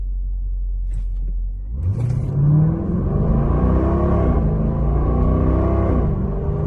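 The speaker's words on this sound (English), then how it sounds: "I'm like half throttle right now." A 2021 Dodge Durango R/T with a Diablo 93-octane tune and PCM swap drives at half throttle, its engine rumbling low, then rising in pitch as it accelerates through quick shifts, loud and close inside the cabin.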